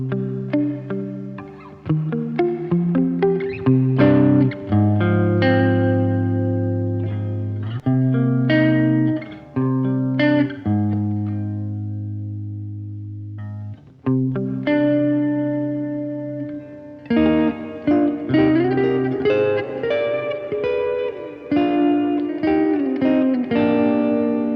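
Electric guitar played through another preset on an Illumine pedal for ambient post-rock, giving layered sustained chords and notes with heavy effects and distortion. The playing is loud and continuous, with a brief thinner pause near the middle and no talking.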